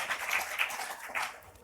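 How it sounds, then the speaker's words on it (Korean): A church congregation at a Sunday service claps in celebration, a light, steady patter of hands under a faint room tone for under two seconds. "우리 축하의 박수 할까요?"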